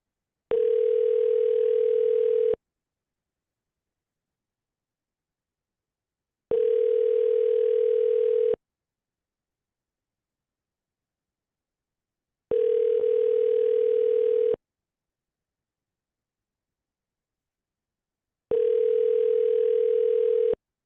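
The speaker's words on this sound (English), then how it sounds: "You guys hear the ringing?" A telephone ringing tone sounds four times, each steady two-second ring separated by about four seconds of silence, clear and unaccompanied.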